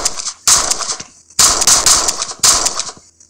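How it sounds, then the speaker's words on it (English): Rapid bursts of video-game gunfire in three loud clusters, each a fast rattle of shots separated by short pauses, with no talking over it. "The gun is not even shooting towards him."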